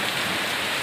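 A brief burst of heavy wind-driven rain on a village farm, a thick, even roar of water pounding down close by.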